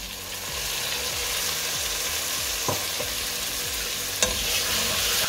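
Tomatoes being mixed and roasted in mutton curry masala, a loud, dense continuous sizzle with repeated scraping strokes of a spatula and a couple of sharp clinks against the pan, close and without speech.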